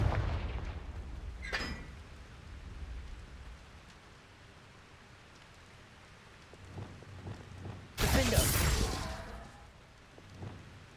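A Confringo spell explodes in the Hogwarts Legacy video game: scattered low rumbles and crackles build to one loud, sharp blast near the end, which then decays.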